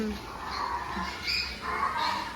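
Birds perched in a tree give short, repeated squawks at moderate distance, heard under and between people chatting nearby.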